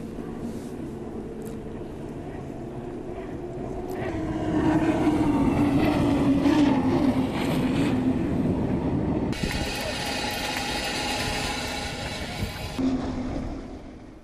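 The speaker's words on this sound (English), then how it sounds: "Propelled by 2 400 horsepower outboard engines, the powerboats reached speeds of up to 200 kilometers per hour." Two racing powerboats, each driven by a pair of 400 horsepower outboard engines, roar past at high speed, a loud steady engine drone that swells midway and stays strong before easing off.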